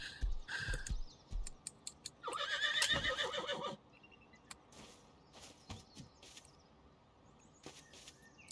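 A horse in the survival video game Rust gives loud, close neighs and whinnies, with hoof clops mixed in. Sparse clicks and soft noises follow in a quieter stretch.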